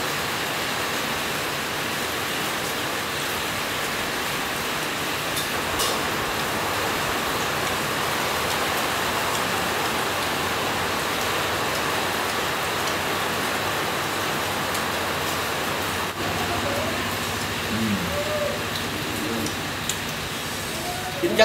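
Steady rain pours as a dense, even hiss throughout, close and fairly loud, with a few faint thumps and drips near the end.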